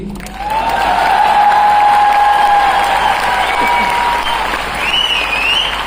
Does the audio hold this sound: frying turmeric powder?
no